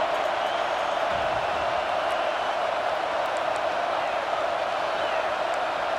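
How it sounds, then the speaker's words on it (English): A steady, full-throated stadium crowd roar from the College Football 26 video game fills the whole stretch, loud and unbroken without distinct peaks. "This crowd, full throat, spreading the eardrums"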